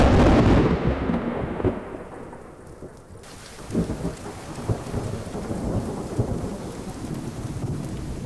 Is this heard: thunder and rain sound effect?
yes